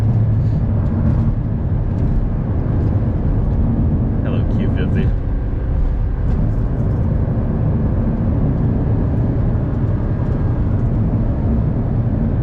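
A 2009 Audi R8 Carbon Package engine drones steadily and loudly from inside the car while driving, a continuous rumble beneath someone talking throughout.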